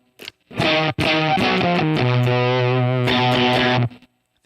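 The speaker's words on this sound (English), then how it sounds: "I added a little bit more distortion on that for the, and just like a little bit more fuzz" Electric guitar lead played with heavy distortion and fuzz, a few quick picked notes sliding into sustained overdriven tones held for several seconds, loud and close with no voice.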